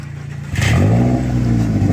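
A Toyota Corolla with a 1.8-liter engine and a rattly exhaust, quiet idle jumping into a loud rev that holds with a rising, buzzy drone and rattle, close by, no talking.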